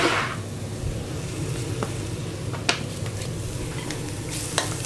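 Shallots and onions sizzle quietly in a swing pan over medium-low heat, a soft, steady frying hiss broken by a few sharp clicks and scrapes of stirring.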